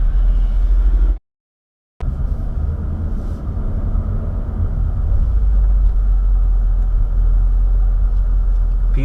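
A 2020 Ford Mustang GT with a 5.0 V8 rumbles steadily at low pitch while driving, its engine drone continuous and close apart from a brief cut-out near the start, with no talk.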